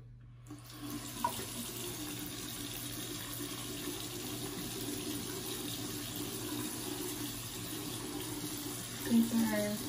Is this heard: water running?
yes